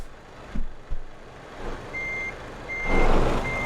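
A truck reversing in Euro Truck Simulator 2, with repeated high electronic reversing beeps at an even rhythm over a low engine rumble, plus a couple of brief thumps and a rising engine swell near the end.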